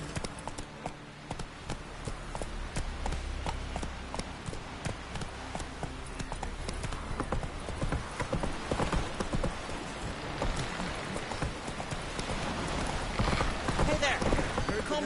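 Horse hooves clip-clopping at a quick, steady gallop in a video game, a continuous stream of hoofbeats with a voice talking over it.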